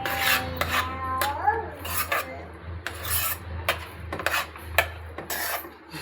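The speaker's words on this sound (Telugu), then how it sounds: "కొంచెం గంట వరకు కలుపుతూనే ఉండాలి." A spoon scrapes and rubs through a thick balamrutham flour mixture in a pan in repeated rasping strokes at a moderate, fairly close level, with faint background noise.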